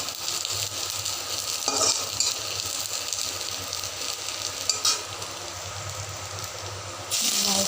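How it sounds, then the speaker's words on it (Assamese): Chopped tomatoes sizzle and crackle in a hot pan for palak paneer while a spoon stirs them in short scraping bursts, close and steady with no talk. "এতিয়া আমি ইয়াতে বিলাহীখিনি দি দিম।"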